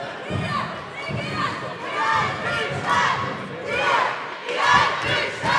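A packed indoor crowd roars and cheers continuously, with swelling waves of shouting echoing through a large hall.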